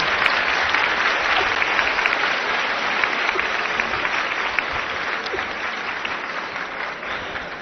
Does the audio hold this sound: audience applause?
yes